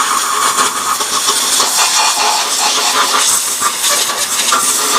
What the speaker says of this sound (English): So I've also charged up the air compressor. I'm just going to go at blowing away any of the excess kerosene